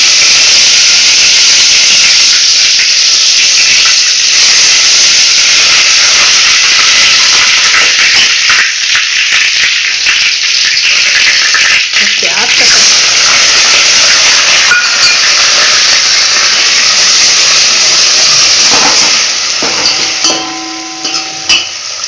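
Loud, steady sizzling and hissing of onions, garlic and cumin frying in a hot pan continues throughout, close by, easing slightly near the end.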